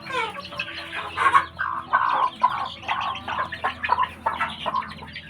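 Thai fighting-cock hens and young birds of a red-gem and pradu lineage cluck and chatter continuously and fairly close, with overlapping calls forming a busy farmyard texture.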